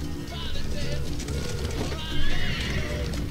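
A horse in the LiF MMO video game whinnies while fleeing during a battle, a couple of neighs over hoof clatter and game noise, with someone talking throughout.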